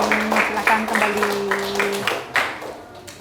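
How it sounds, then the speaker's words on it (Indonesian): Scattered classroom clapping for two debate teams, loose and uneven, with voices talking over it throughout. "berikan tepuk tangan kepada kedua tim"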